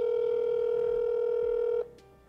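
Outgoing telephone call ringback tone, a steady electronic ring that stops abruptly near the end, with no talk over it.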